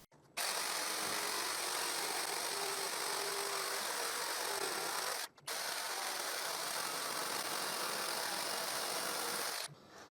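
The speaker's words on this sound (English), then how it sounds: "Now I draw a triangle in that piece of board, and I use the jigsaw to cut it." A jigsaw cuts a triangle from a pallet board, its motor buzzing steadily for about five seconds, stopping briefly, then running again for another four seconds, fairly faint with no talking.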